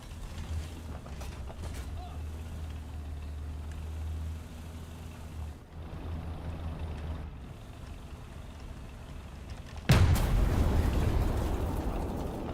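Tank cannon fired in War Thunder, a single loud, sudden blast late on that rings out into a broad sustained roar, after a long stretch of low engine rumble and creaking track noise.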